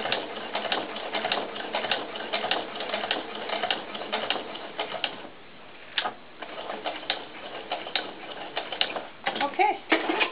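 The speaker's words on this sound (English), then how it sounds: "we are done with the sewing machine" A sewing machine stitches a vinyl doll sandal, its needle clattering in quick rhythmic bursts that stop briefly and then resume, close and fairly loud.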